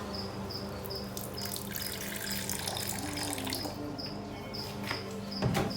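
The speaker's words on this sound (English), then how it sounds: "Whack a water bowl down in there and I'll fill it up." Water trickles and splashes into a bowl being filled for a monitor lizard enclosure, a steady, moderate pour under a high repeating chirp in the background.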